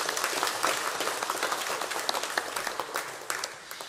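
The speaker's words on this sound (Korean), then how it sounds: "우리 다시 한번 박수 한번 하겠습니다" A church congregation claps together at a Sunday service, a dense, steady wash of applause from many hands that continues throughout and tapers slightly at the end.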